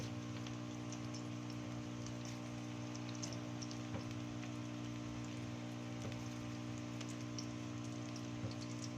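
Gobi pakoras (cauliflower fritters) are frying in oil over low heat. A soft, even crackle and sizzle runs steadily and faintly, with occasional small pops and no talking.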